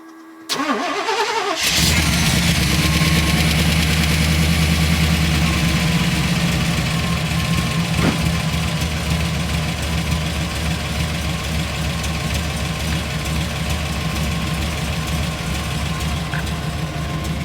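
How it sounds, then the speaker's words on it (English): A 350 V8 in a 4x4 one-ton van with a MagnaFlow muffler and a small resonator cranks briefly and fires. It then settles into a loud, steady, rumbling idle up close for the rest of the clip. "So we can go ahead and fire it up, see how it sounds."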